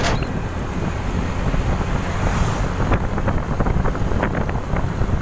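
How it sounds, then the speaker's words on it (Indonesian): Fast river swollen by rainy-season flow near Nanggung, Bogor, a dense continuous roar of rushing water heard from above, mixed with blustery wind buffeting the microphone. "airnya deras banget guys."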